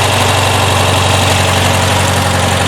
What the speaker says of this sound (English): See how the engine's jumping a little bit?